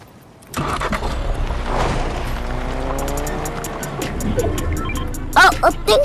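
A car drives in the video game Fortnite: the engine starts and then runs and revs steadily with tire noise, loud and close, and a few sharp game beeps come near the end.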